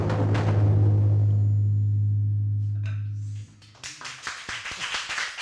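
A deep, booming ring from a repaired large taiko drum sustains and slowly fades in a high school taiko club room, then a short pause gives way to lively clapping from the listeners.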